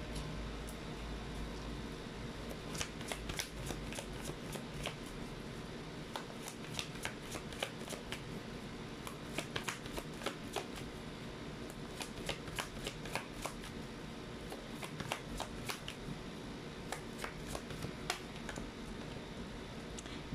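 Tarot cards being shuffled and drawn, a steady soft riffling with many quick crisp card flicks and snaps scattered throughout, close and quiet against a faint room hum with no talking.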